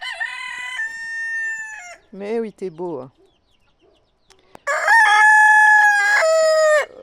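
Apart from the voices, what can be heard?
rooster crowing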